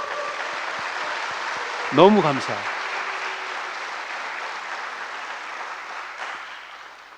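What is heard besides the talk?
congregation applauding in church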